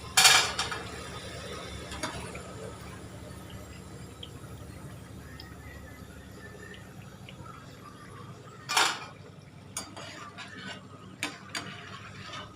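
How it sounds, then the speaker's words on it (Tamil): Crispy fried potato pieces dropped into a metal kitchen vessel, giving sharp rattling clatters at the start and again near nine seconds, with lighter scraping and clinks between. "இப்போ நான் இந்த உருளைக்கிழங்கு நான் பாத்திரத்தில் போடும்போது சவுண்டு வரணும்."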